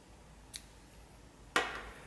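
Scissors cut crochet yarn in two quick, crisp snips, a faint one followed a second later by a louder, closer cut, in an otherwise quiet room.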